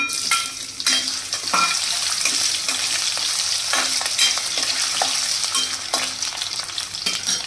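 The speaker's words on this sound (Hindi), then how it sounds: "फ्लेम को लो करके हम आलू को थोड़ा सा फ्राई कर लेंगे" Potatoes with cumin and dried red chillies fry in hot oil on a low flame, a steady loud sizzle with scraping stirs and utensil knocks throughout, no talking.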